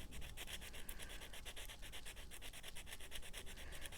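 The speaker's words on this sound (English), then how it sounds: "I'm going to use the sandpaper I've got at hand" Sandpaper rubbed back and forth across metal while refinishing a gemstone setting, a quiet rhythmic scratching in steady repeated strokes with no talk.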